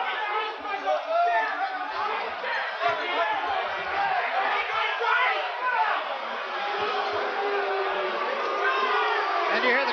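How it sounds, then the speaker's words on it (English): Boxing arena crowd at a Mike Tyson title fight, a dense wash of murmuring and booing voices that holds steady and loud throughout. "And you hear the crowd start to boo."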